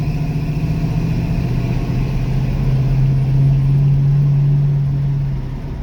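Engine of a 1974 Plymouth Barracuda with a freshly swapped four-speed transmission, running steadily with a low droning hum that shifts pitch slightly partway through as it moves through gears, close and continuous with no talk.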